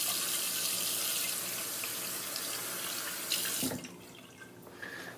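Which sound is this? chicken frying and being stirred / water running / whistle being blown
water running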